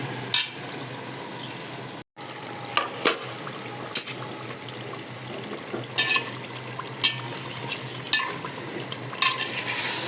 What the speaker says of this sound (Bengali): মাংসগুলো দিয়ে সুন্দর করে নেড়ে চেড়ে কষিয়ে নেব।